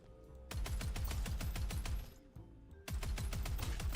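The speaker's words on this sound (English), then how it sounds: "I really like the machine gun in this game." Rapid machine gun bursts from the video game Postal, a steady rattling stream of loud shots that breaks off briefly near the middle, then resumes at full force.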